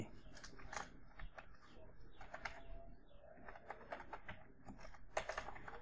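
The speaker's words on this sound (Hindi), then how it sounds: "इसमें हम टाइप करते हैं एडमिशन फ्री" Keys clatter on a computer keyboard while text is entered in MS Word, an irregular run of close, light clicks with birds cooing faintly in the background.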